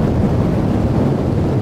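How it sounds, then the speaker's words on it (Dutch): Strong wind gusts across a beach, buffeting the microphone with a loud, continuous low roar and no talking. "Het waait wel flink."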